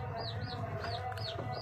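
A hen clucks inside a farm coop where she sits near freshly laid eggs. Soft, repeated clucks and small chirping calls come from close by over a steady background hum.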